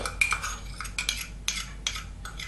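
A spoon mixes cocoa powder with sugar in a bowl, giving a few sharp, close metallic clinks and scrapes spaced irregularly, with no talking.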